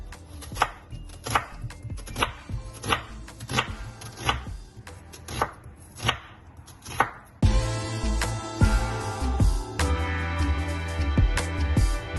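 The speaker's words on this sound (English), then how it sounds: "The sauce, I have another onion that I'm going to cut." Knife chopping an onion on a cutting board for a Ghanaian palava spinach sauce: steady, evenly spaced crisp chops near at hand, first slower and sparse, then quicker and denser.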